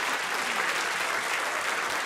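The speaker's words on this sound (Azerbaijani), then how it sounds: "Alqışlayaq." A burst of audience applause, dense and steady for a couple of seconds, filling the room with continuous clapping.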